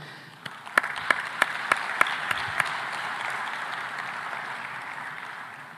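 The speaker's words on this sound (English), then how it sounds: "A warm round of applause for everyone and the leaders that we currently have that are pushing." Crowd applause swelling and fading, with a few sharp individual claps standing out early over a steady wash of clapping.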